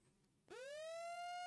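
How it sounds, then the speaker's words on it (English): A tornado warning siren during a historic April 2024 outbreak begins abruptly and rises into a steady, sustained wail, faint and distant in the background. "The little sirens that you guys hear in the background aren't meant to be loud"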